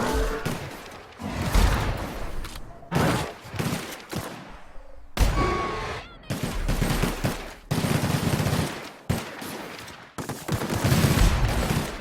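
Gunshots in the video game Fallout: New Vegas come as loud, close bursts of rapid fire. Short gaps of near silence separate repeated volleys.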